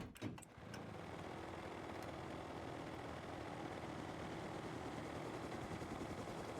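A mini helicopter's engine in a video game drones steadily and faintly, a continuous whirring hum after a few brief clicks at the start.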